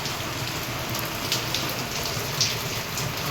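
Heavy rain falls steadily at night, a constant, even rushing hiss with a few louder drop splashes and no voices.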